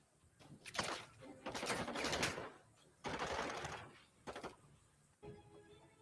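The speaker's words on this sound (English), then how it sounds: "Here's some of that music and some of the gunshots." Modern Warfare 2 game gunfire from an audio pack sounds as several rapid automatic bursts, loud and close, separated by short pauses, with faint music between.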